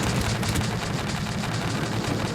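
Gunfire from weapons in the building game Scrap Mechanic, a dense, continuous rattle of rapid shots with a heavy low rumble, loud and steady throughout with no voices.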